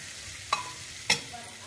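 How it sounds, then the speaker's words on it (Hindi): Peas being roasted and stirred in a pan: two short scraping strokes of a spoon, close and clear, over a faint steady background hiss. "मटर को थोड़ा भूज लेंगे। अब इसको चलाएंगे।"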